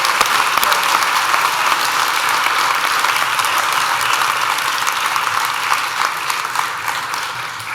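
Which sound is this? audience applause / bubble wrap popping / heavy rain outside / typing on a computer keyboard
audience applause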